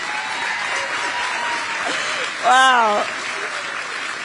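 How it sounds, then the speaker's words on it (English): Steady applause from an audience at a campaign event in Pennsylvania fills the whole stretch, swelling briefly as a single voice calls out over it. "Can you believe that's an applause line?"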